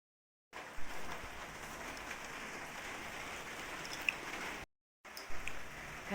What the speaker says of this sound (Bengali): আর দেখো বৃষ্টি শুরু হয়ে গেছে